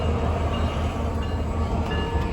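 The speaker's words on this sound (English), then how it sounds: "Grand Canyon Railroad pulling out." Grand Canyon Railroad train pulling out, a steady loud low rumble of rolling rail cars with continuous broadband noise and no clear horn.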